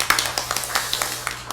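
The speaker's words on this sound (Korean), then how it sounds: "다시 박수를 한번." An audience at a real estate policy forum gives a short round of applause, a brief cluster of claps that stays fairly light and sparse, with no talking over it.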